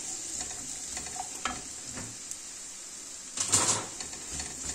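Garlic and chopped onion sauté in a pan with a steady, fairly loud sizzle and a few scraping stir strokes, one louder burst of sizzling and stirring toward the end, no talking.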